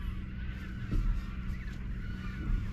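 Honking bird calls, like geese, ring out over a steady low outdoor rumble on a strait, heard from a fishing kayak, fairly distant and repeating irregularly.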